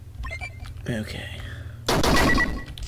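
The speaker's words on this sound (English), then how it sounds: "Wonder if I could blow up the vending machine with the rocket." In the video game Heavy Bullets, a rocket blows up a vending machine. After faint vocal sounds, a sudden loud, close blast erupts and rumbles for about a second.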